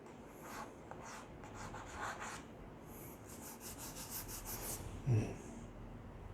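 Scratchy strokes of writing on a board during a physics lecture, soft rubbing sounds in short bursts with pauses, a faint knock near the end and no speech.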